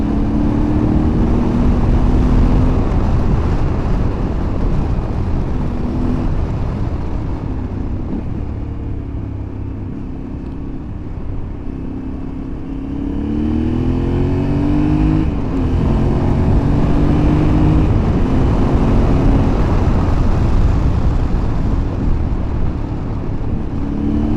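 A Yamaha Ténéré 700 motorcycle rides along a former rally track near Albena Golden Sands, its engine droning steadily and loud, with rising and falling pitch as the rider shifts gears and the throttle opens and closes, and steady wind noise throughout.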